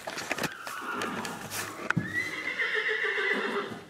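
A horse at a riding stable gives a loud, close whinny after a few hoof clops and knocks, the call rising and trailing off over a couple of seconds.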